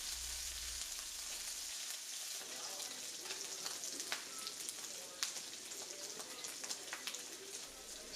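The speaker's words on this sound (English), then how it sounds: "we're gonna throw the meat in to get it nice and crisp" Pork carnitas meat frying in a hot skillet to crisp up with some of its cooking juice, a continuous bright sizzle with scattered pops and crackles, steady and close throughout.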